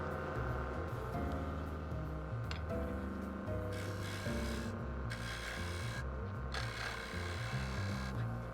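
A natural edge wooden bowl spinning on a Powermatic 3520C lathe while a tool undercuts its base, giving a continuous close scraping, rasping drone with a shifting tonal hum and no speech.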